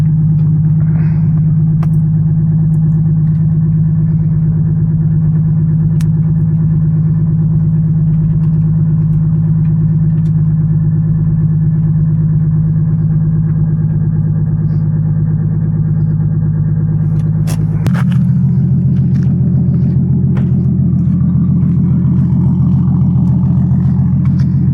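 Car engine running close up with a possible misfire, a heavy steady low rumble that changes pitch and character about two-thirds through, with no talk.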